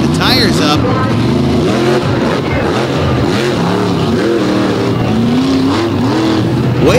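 A GMC monster truck engine throttles hard over jumps at an arena show, loud and continuous with rising and falling revs, under an announcer's commentary and crowd noise.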